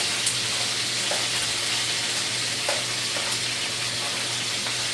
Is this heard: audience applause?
no